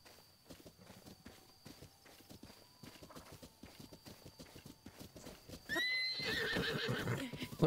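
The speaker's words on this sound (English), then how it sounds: "Wild horses." Rapid hoofbeats of wild horses galloping in The Legend of Zelda: Breath of the Wild, steady and close, then a loud horse whinny bursts in near the end with a thicker wash of noise.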